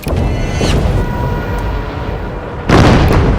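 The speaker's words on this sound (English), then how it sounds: "The explosions send U-405 into a tumble." Deep, rumbling depth charge explosions roll in heavy bursts around a WWII U-boat, one at the start and a sharper, louder blast near the end, with low booming reverberation throughout.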